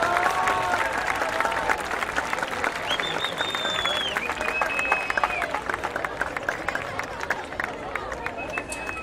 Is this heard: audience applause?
yes